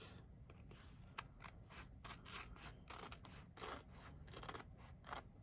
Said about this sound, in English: So I'm going to cut these off.